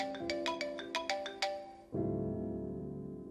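A phone ringtone plays nearby, a quick run of bright chiming notes followed by a sustained ringing tone, fairly quiet and alone.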